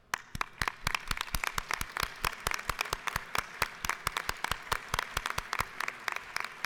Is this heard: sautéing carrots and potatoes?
no